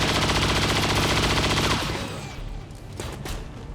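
Sustained automatic gunfire from a Grenadier's heavy weapon aimed at a mech in XCOM 2: a dense, loud rapid-fire burst for nearly two seconds, then dying off into scattered impacts and fainter shots.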